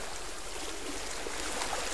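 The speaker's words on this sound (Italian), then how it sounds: "In sottofondo stiamo già ascoltando rumori d'acqua, risacca dell'oceano, del mare" Steady ocean surf and washing water, a continuous broadband hiss with no distinct wave breaks, fairly quiet and even throughout, used as a soothing natural sound for tinnitus therapy.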